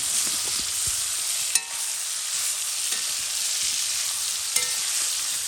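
Steady sizzle of eggplant frying in a kadai, with a few soft scrapes and taps from a spatula being stirred.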